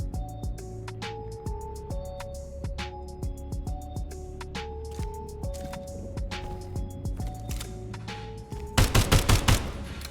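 Rapid gunfire from a video game weapon, quick regular shot bursts over a steady engine-like hum, ending in a few louder heavy blasts near the end.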